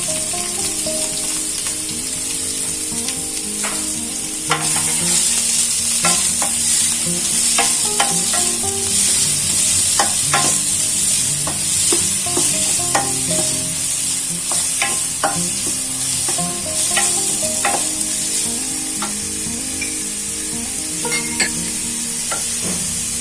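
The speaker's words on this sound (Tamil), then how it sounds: "வெங்காயம் நல்லா வதங்கும்." Onions and curry leaves sauté in a pan for a Tamil-style boiled egg curry, giving a steady loud sizzle with repeated scraping stir strokes throughout, no talking.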